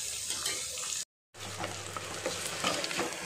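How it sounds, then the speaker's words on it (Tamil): Small onions sauté in a pan for a country chicken curry, a steady close sizzle with stirring scrapes, briefly cut out for a moment before resuming. "இதுவும் வதங்கட்டும்."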